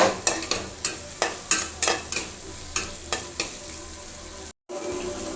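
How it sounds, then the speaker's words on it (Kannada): Masala spices frying in a pan for egg bhurji, a steady sizzle broken by a dozen sharp rhythmic scrapes of a spatula stirring against the pan, close and clear, with a brief dropout near the end. "ಮಸಾಲೆ ಎಲ್ಲ ಹಾಕಿದ್ದೀವಲ್ವಾ ಸೊ ಅದನ್ನು ಫ್ರೈ ಮಾಡ್ಕೊಳ್ಳೋಣ"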